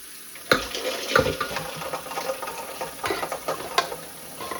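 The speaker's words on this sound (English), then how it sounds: "I'm going to stop the cooking by putting them in this ice bath" Hard-boiled eggs dropped into a bowl of ice-cold water, giving a few irregular splashes and clinks over a steady running-water hiss, fairly close and moderately loud.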